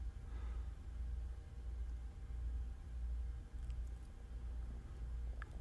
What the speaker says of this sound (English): Engine is at low idle.